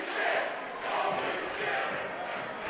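An independent wrestling crowd at the Asylum in an Absolute Intense Wrestling show chanting in rhythmic bursts, a roomful of voices rising and falling in repeated surges, moderately loud and slightly distant.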